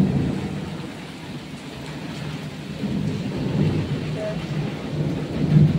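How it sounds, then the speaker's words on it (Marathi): Heavy pre-monsoon summer rain pours steadily in Chhatrapati Sambhaji Nagar, a dense broadband hiss with low rumbling thunder rolling underneath and a slightly louder swell near the end. "एकदम विजा कडकडून पाऊस पडत आहे."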